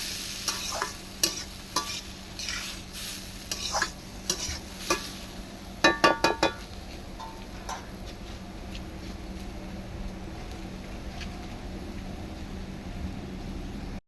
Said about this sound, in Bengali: এখন তো ভাজা ভাজা হবে